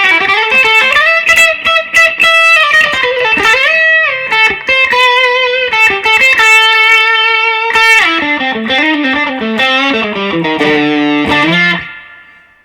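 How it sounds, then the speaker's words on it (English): A PRS Custom 24 electric guitar from 1997 plays through a TS9 Tube Screamer overdrive, giving loud, thick mid-heavy distorted notes and sustained chords that ring out and fade at the end. "I'm using a TS9 tube screamer for an overdrive, so it really does fatten up the mid-range quite a bit."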